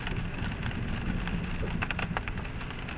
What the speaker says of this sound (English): I just love this rain.